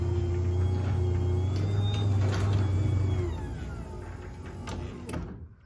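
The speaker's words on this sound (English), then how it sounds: "you're just going to press it once, and the door is going to move to the up position that you just set" A LiftMaster 8550/8360 garage door opener hums as the door rises to its set up limit, a steady motor drone with squeaks and rattles that fades and stops abruptly at the end.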